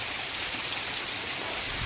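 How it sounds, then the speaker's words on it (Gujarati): Steady rain hissing with a broad, even wash of noise, stirred by wind, continuous and moderately loud with no voices. "પવન છે અને વરસાદે શરૂ છે"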